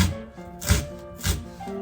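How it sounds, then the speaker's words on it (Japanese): Two distinct knife strokes cutting diagonally into a leek, each a short crisp slice landing on a cutting board, with a quiet pause between them. "裏側も斜めに包丁を入れる"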